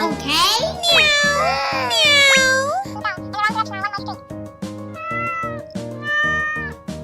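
Several high, wavering meows repeat over a steady rhythmic musical backing, loud and close.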